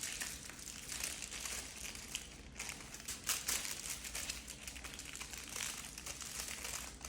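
Foil or butcher wrap crinkles and crumples steadily around Texas-style BBQ spare ribs seasoned with an SPG rub, close and continuous with brief sharper crackles as the edges are folded tight, no talking.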